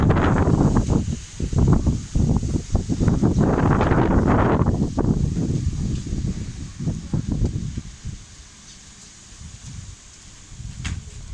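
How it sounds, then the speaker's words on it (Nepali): Strong gusty wind roars across open ground during a sudden morning weather change in Kanchanpur, Nepal, loud and rushing at first with rustling bursts, then easing to a steadier, fainter blow near the end. "कञ्चनपुरको आसमा अहिलेको मौसम डरलाग्दो हावा"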